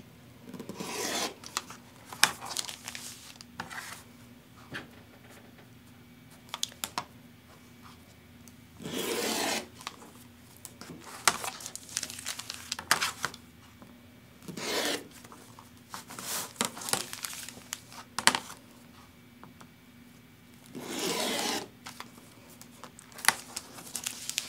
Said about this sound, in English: First I'll cut around the edge.